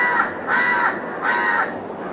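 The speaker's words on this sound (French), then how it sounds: "Il y a beaucoup d'oiseaux." Crows caw loudly and close by at an outdoor yoga session in India, three drawn-out harsh calls spaced evenly apart, with no voices over them.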